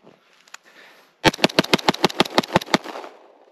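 A Sig MPX K fires a rapid string of about a dozen loud, sharp gunshots outdoors in snow, evenly spaced and close, after a quiet lead-in with faint handling noise.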